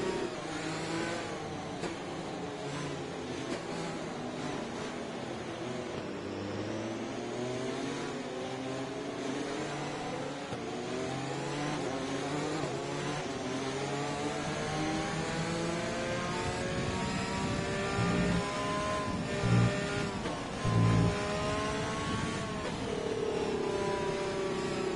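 An F1 car engine in a racing video game revs steadily and climbs through the gears, with rising and falling harmonic sweeps that hold at a constant loud level close up for the whole stretch.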